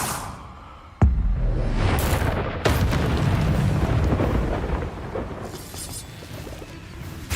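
A Confringo blasting spell exploding in Hogwarts Legacy, a sudden loud boom followed by a second blast and a long rumbling, crackling roar that slowly fades.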